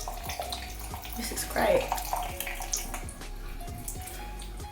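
Running water from a tap splashing steadily in a sink as a face mask is washed off, close and continuous, with water sloshing over it and a short spoken remark.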